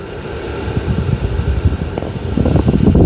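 A Dyson HushJet Compact air purifier fan on high whooshes steadily up close, its airflow growing stronger and more turbulent toward the end, with no talking.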